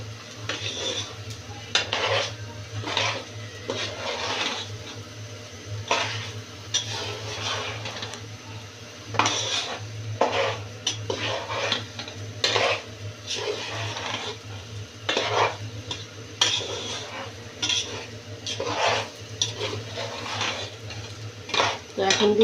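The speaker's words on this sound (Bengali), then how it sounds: "একটু ভাজা ভাজা করে নিই।" Tehari ingredients fry and get stirred in a pot, a metal spoon scraping and clattering against the pot in repeated strokes over a low continuous sizzle, close and busy throughout.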